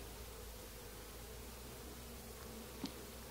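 Honeybees buzz around an open hive during an inspection, a faint, steady droning hum with a brief closer pass of a bee near the end.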